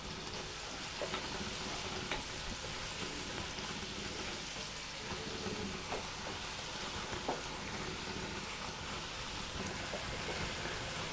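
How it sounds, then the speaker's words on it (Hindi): Chopped onion and crushed garlic sauté in a pan with a steady, even sizzle and scattered small crackles, fairly close and continuous throughout, with no talking. "इनको हल्का सा सौते करेंगे।"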